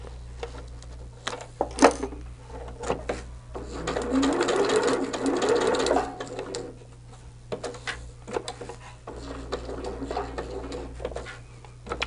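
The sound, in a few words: sewing machine stitching a quilt (basting)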